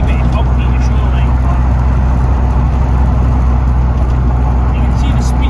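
A Mazda FD RX7 with drag suspension cruising at about 50 mph in 7th gear just under 2000 RPM, a loud, steady low engine and road drone inside the car, with someone talking over it.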